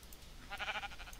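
A single faint, wavering sheep bleat from a video game, short and quiet over low background hum.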